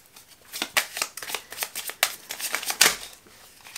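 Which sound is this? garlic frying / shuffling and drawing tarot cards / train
shuffling and drawing tarot cards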